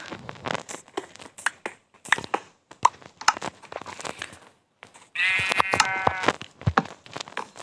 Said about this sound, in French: Vous entendez les bruits de moutons là?